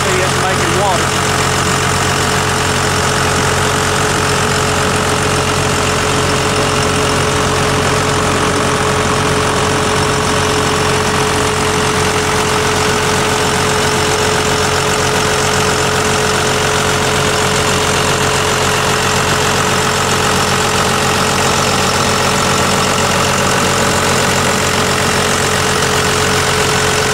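A 2027 648GIII engine runs steadily in its engine compartment with a loud, constant droning hum and vibration, unbroken throughout, while a person talks over it.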